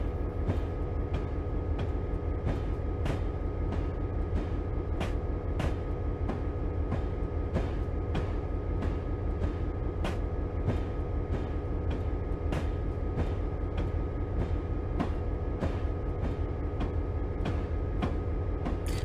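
A diesel locomotive hauls a freight train of empty boxcars in Train Simulator 2020, its steady engine drone joined by regular clicking rail joints in a continuous, even rhythm with no talk.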